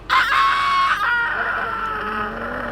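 A rooster crows loudly nearby, one long strained call that trails off, with faint background noise.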